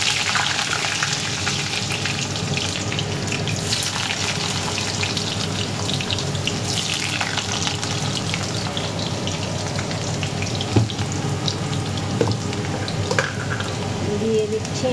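Potatoes frying in a pan with black cumin seeds and a pinch of salt, giving a steady, close hiss and sizzle that runs unbroken, with occasional soft stirring clinks.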